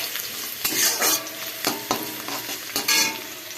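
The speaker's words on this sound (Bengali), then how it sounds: "শুকনো লঙ্কা, কালো জিরে আর পেঁয়াজটা দিয়ে একটু ভাজছি লাল করে।" Dried red chillies, nigella seeds and onion fry in a pan, a continuous close sizzle broken by several distinct scraping strokes of a spatula, with no voices.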